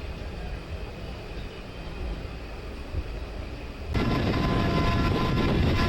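Jan Shatabdi Superfast Pongal Special train running from Tambaram to Trichy, a steady loud rumble of the moving carriages that grows louder and rougher partway through, with no talk.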